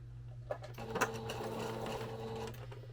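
A sewing machine runs a continuous straight stitch, set to stitch length 2, along the line of a small fabric keychain, humming steadily and close up with no talk.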